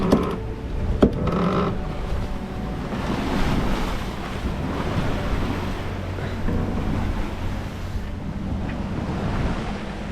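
Blustery wind buffets a sailboat at sea in the Atlantic Ocean while waves wash and surge around the hull, a loud continuous rush with a few sharp knocks near the start.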